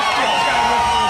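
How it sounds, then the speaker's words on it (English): A rowdy crowd cheers and shouts at a live album release party on the Sunset Strip in 1998, a loud continuous roar of many voices close by. "as you can hear, we've got quite a rowdy crowd tonight"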